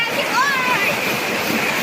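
A forest waterfall rushes steadily and loudly where people are bathing, a dense unbroken roar of falling water with a voice speaking over it.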